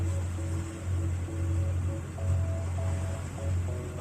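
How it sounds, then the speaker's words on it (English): Ocean waves surge steadily around a 25-ton sailing boat crossing a river bar on a small swell, a continuous low roar of surf with swelling rises, alongside a steady low engine drone. "Huge waves left and right."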